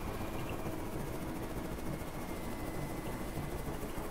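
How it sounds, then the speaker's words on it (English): Engine drone of an enemy plane flying in the video game Carrier Command 2, a steady, continuous mid-level hum with low rumble running throughout, no talk over it. "So this is one of their planes."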